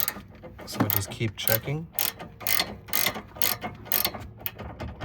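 A wrench works the nut on a front sway bar link of a second-generation Nissan Rogue, rapid ratcheting clicks in quick bursts close up, with a short spoken remark over them.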